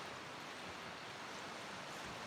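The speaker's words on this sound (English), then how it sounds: "Sound of the water." River water flows steadily on the Main Salmon in Idaho, a soft, even rushing wash heard from a sandy bank, continuous and faint with no voices.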